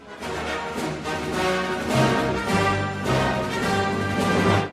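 A dark, brassy orchestral villain march from Star Wars plays loudly and slowly, heavy, full and sustained throughout.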